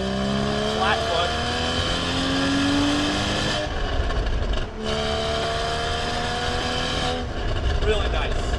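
A 2015 Porsche Boxster 981 with its flat-six engine and the top down drives hard, the engine note climbing through the gears under full throttle, with brief dips at each upshift and steady wind noise around it.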